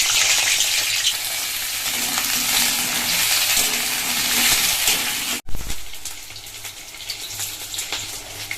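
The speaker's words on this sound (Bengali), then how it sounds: "আর এখানে হচ্ছে পটলটা ভাজা হচ্ছে" Pointed gourd pieces frying in hot oil in a wok, a loud, steady crackling sizzle with stirring; after a brief cut, a quieter sizzle continues.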